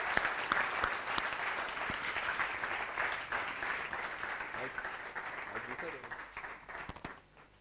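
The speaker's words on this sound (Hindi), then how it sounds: "मैं आप सबकी बहुत ज़्यादा तालियों में दावत दूंगा" Sustained audience applause at a motivational seminar session, dense clapping from a crowd lasting several seconds then tapering off near the end.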